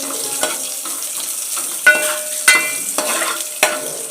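A tempering of spices for Mangalore-style sambar sizzles in a pan, a steady hiss broken by several sharp scraping stirs and clinks, loud and close with no talking.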